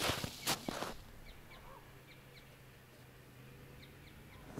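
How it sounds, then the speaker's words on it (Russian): Small birds in the taiga of the Arkhangelsk region chirp faintly in short, repeated high notes from some distance against quiet outdoor air. A couple of loud rustling or thumping noises come near the start. "Птички поют."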